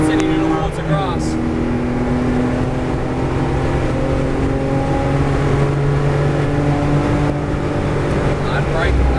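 A car engine accelerates hard on a race track, the pitch climbing and holding as the revs build through the run, loud and close from inside the car, with occasional speech over the drone.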